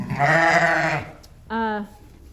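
A ewe bleats twice close up, a long wavering call followed by a shorter one after a pause, with faint background noise between.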